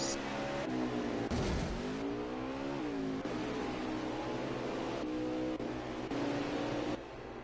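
Race cars in a stock-car racing video game roar past on the Canadian Tire track, with steady loud engine drone and pitch sweeps as cars shift and pass, continuous throughout.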